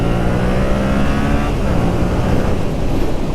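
2022 Yamaha MT-07 motorcycle pulling away from a stop, its engine a loud close continuous roar that climbs in pitch as it accelerates.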